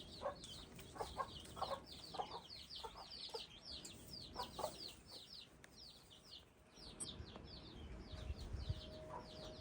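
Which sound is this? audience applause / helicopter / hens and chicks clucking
hens and chicks clucking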